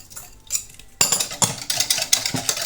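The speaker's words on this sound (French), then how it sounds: "Je vais bien mélanger le tout." A spoon clinks and scrapes around a bowl while yeast, milk and sugar are stirred together, in quick, close strokes after a short quiet opening.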